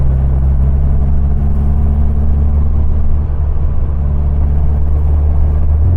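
Car engine fitted with Weber IDF carburettors, running loud and close with a steady deep rumble and slight surges in rev under throttle, no voices over it.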